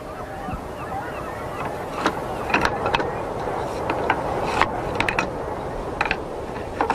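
An ancient Polybolos repeating bolt-thrower works its chain mechanism, producing repeated clicking and ratcheting clacks in an irregular rhythm over a steady background rumble, fairly close and moderately loud.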